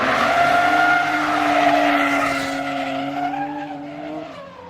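A drift car skids through a competition course, its engine howling under sustained tire squeal. The sound is loud and continuous, drifting slightly in pitch as the car transitions, then gradually fades toward the end, with no voices.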